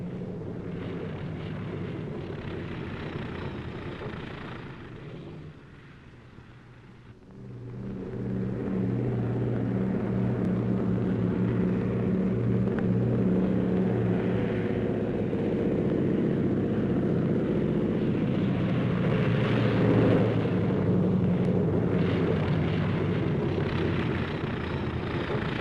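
Heavy piston engines of a B-29 bomber roar in a 1944 newsreel, a loud sustained propeller rumble that dips briefly and then builds into a full, steady drone.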